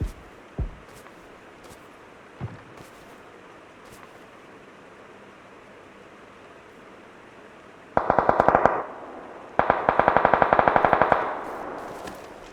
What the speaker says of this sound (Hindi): मुझे गोलियों की आवाज़ सुनाई देने लगती है